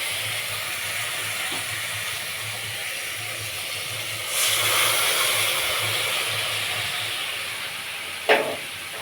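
A pan of sizzling spice paste gives a steady loud hiss, and a surge of hissing rises as water is added midway, with a brief clink near the end.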